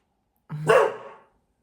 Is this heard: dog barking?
yes